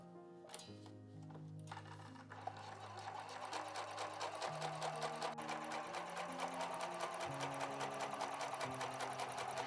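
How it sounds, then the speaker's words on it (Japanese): A domestic sewing machine stitches fabric for a small hexagon-pattern pouch, a fast, even mechanical whir with rapid needle ticks, close and steady, changing speed a few times after a brief start-up. "このようにカットしたらミシンで縫いますよ。"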